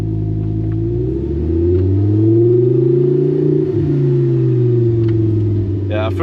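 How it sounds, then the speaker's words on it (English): A Lamborghini Gallardo's naturally aspirated V10 with a straight-pipe exhaust rises and falls through loud, smooth revs, heard up close from inside the car, with a brief shift-like dip midway and no talk. "Oh, the sound is just such an amazing V10, naturally aspirated."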